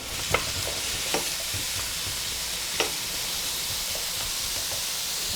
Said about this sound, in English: I'm gonna throw in my mushrooms. Give them a toss, coat them in the oil.